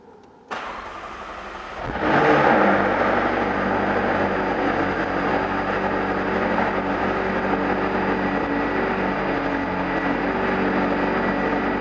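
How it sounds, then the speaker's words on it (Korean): A McLaren 600LT supercar engine cranks and fires up, then settles into a steady, loud idle that rumbles on with no talking. "대망의 시동을 한번 걸어 보겠습니다"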